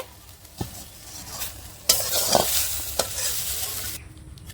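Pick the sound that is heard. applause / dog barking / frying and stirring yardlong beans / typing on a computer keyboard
frying and stirring yardlong beans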